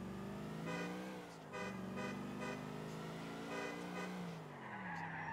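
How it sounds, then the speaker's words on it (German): A car horn honks repeatedly in Grand Theft Auto IV, several sharp toots over a running engine and tire noise, fairly close and distinct against the game's driving sounds. "Da ist die Hupe."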